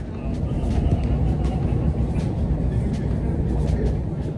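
Metro train in a Russian subway station, a loud steady rumble of rolling carriages filling the space, with faint voices underneath.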